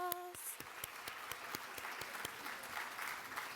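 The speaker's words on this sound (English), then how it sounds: "Give yourselves a round of applause." A museum audience at an International Day of the Girl program applauds: scattered, fairly quiet clapping with a few distinct nearby claps over a soft room wash, lasting several seconds without voices.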